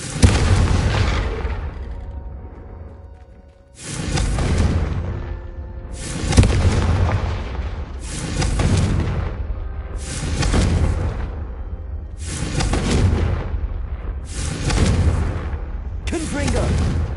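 Repeated Confringo blasting-curse explosions in a Harry Potter video game, a series of about seven loud booming blasts at roughly two-second intervals, each decaying into rumble, with voices faintly underneath.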